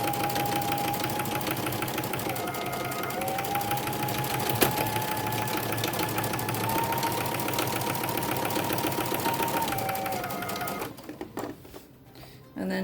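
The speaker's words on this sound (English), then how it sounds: "you're going to do a top stitch all the way around." A sewing machine top stitches around a fabric face mask in one continuous, steady mechanical whir lasting about eleven seconds, then cuts off into quieter handling noise.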